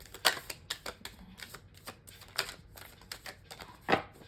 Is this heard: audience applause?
no